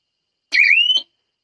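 Electronic alarm of a Zatka electric farm fence machine, battery powered, signalling a current drop: a single loud, high whistling tone lasting about half a second that rises slightly in pitch, heard alone.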